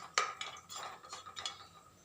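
Dry scraping and clinking of a utensil stirring dried coconut as it dry-roasts in an iron pan without oil, a few irregular strokes, quiet and close.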